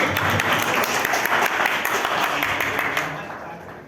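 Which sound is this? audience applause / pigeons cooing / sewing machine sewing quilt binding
audience applause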